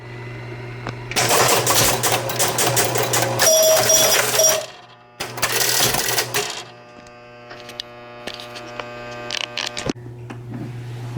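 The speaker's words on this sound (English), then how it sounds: "The score motor is working beautifully now." Score motor of an electromechanical pinball machine at a tournament runs with dense clattering relay and switch chatter, stopping briefly and restarting in bursts over a steady low hum, close and loud.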